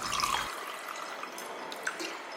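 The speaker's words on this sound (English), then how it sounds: "Pour the water in." Water is poured into a KUKU coffee maker during cleaning, giving a brief close splash at the start followed by a soft, steady trickle and occasional drips, with no talking.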